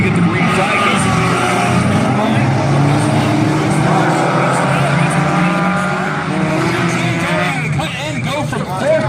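Four-cylinder race cars, including a CRX, roar loudly on a dirt track as the green flag drops, engines straining close by while an announcer talks over the racing throughout.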